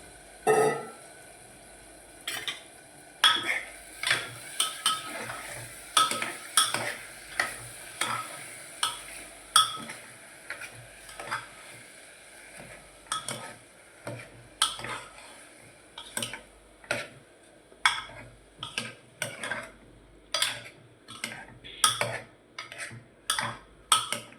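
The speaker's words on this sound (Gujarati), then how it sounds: "કરી દો મિક્સ બધું." Bottle gourd and chana dal curry is stirred in a pan, with a spoon scraping and clinking against the metal in irregular bursts over a light sizzle, close up and with no talking.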